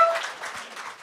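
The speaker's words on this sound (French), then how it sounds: "on peut l'applaudir" Brief, fairly soft burst of clapping from a studio audience on a comedy game show, a light scattered patter that fades slightly.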